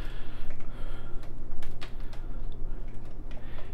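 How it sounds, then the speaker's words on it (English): Arrow keys on an Amiga 500 keyboard clack in a quick run of close, distinct presses over a steady low hum. "I'm gonna try these arrow keys to see if they actually move."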